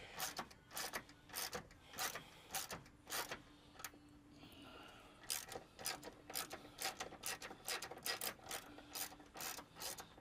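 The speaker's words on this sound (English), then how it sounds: "Simple 10mm wrench." Ratcheting 10mm wrench loosening bracket bolts on a 2000 Ford F150 during A/C system disassembly, giving rapid, repeated close clicking strokes in bursts with brief pauses, fairly quiet and with no talking.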